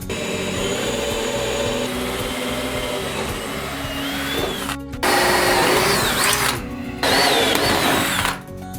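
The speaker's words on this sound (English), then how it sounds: "drilling a hole right in the middle of each plate from the back all the way to the outside" A power drill bores a hole through a metal plate for a camper light bar mount, with a loud, steady grinding whine, pausing briefly a couple of times before squealing back up, close at hand.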